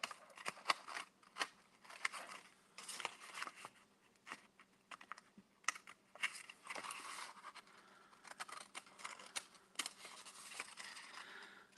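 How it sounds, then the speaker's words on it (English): Scallop-edged scissors snip through paper to cut out a heart, a series of short crisp cutting sounds coming in irregular bursts and pauses, close and fairly quiet, with no talking. "and cut my heart out with my scallop scissors"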